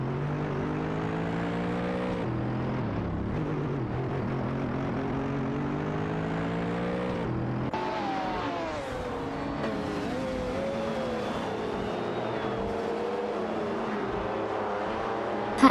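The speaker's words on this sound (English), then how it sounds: "Audi V88, Emilio Roccanera, and Nukem Bokem in the Mitsubishi GTO Twin Turbo are locked in a tight battle for 23rd place." Race cars, including a Mitsubishi GTO Twin Turbo, scream along in an AI racing video game, with a sustained engine whine that rises and drops through gear shifts as the cars pass, loud and continuous, with no talking.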